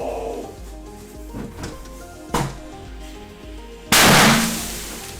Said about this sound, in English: fake setting fireworks off inside his house